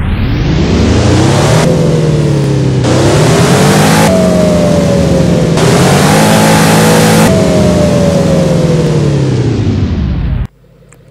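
A licensed Pagani supercar in the Driving Empire racing game revs hard and continuously, its engine note rising and falling through several loud surges before cutting off abruptly near the end, with no talking.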